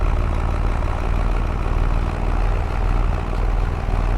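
Tractor engine in Farming Simulator 25 running steadily with a deep low rumble and rhythmic throb, close and continuous, with no talking.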